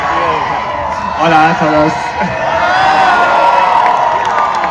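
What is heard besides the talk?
crowd cheering at Formula 1 Spanish Grand Prix, Barcelona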